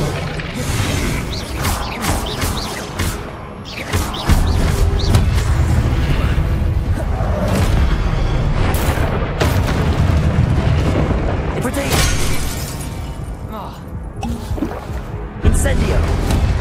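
Fiery spell blasts from Incendio in Hogwarts Legacy roar out as dense, booming bursts over a busy game soundscape, with several loud whooshing impacts and crashes in sequence and a voice speaking between them.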